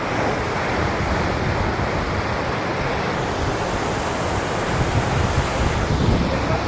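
Sea waves break continuously on the beach at Mandarmani, a steady, full roar of surf with gusts of wind over the microphone and no talking.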